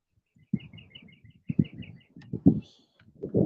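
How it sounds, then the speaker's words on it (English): A bird calls in short, bright chirps repeated in quick bursts, fairly faint against louder nearby rustling and low sounds. "Yeah, you're a pretty looking bird,"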